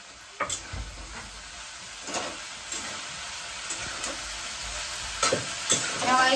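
Green beans and garlic sizzle steadily in a hot pan, with a constant frying hiss. Occasional clinks and scrapes of stirring cut through at close range, and no one speaks.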